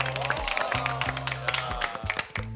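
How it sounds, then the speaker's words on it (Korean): A Korean TV variety show's studio audience applauds in a dense, steady wash of clapping and cheering, with hosts' voices talking over it throughout. "여러분 일단 박수 먼저 부탁드리도록 하겠습니다"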